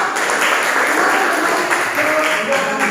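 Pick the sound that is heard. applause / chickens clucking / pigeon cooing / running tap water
applause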